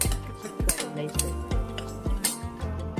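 A spoon stirs chili, salt, turmeric and coriander-cumin powder into Kathiyawadi khichdi in a metal pot, giving about five sharp clinks against the rim between soft scraping swirls, close and quiet.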